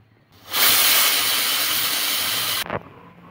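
A pressure cooker on a gas stove, cooking vegetables, lets out a loud, steady hissing whistle of escaping steam for about two seconds before it cuts off abruptly.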